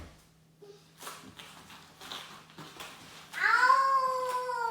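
After a few soft taps and rustles, a cat gives one loud, drawn-out meow close by.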